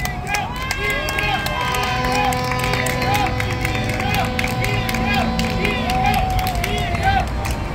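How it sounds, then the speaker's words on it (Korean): A crowd at a candlelight protest rally in Daejeon claps and cheers for the next speaker, a sustained outdoor wash of applause with chatter and a voice over a loudspeaker running through it. "네, 큰 박수 부탁드리겠습니다"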